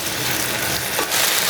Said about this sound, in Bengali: এখানে এখন আমি এটাকে ভাজবো একটু,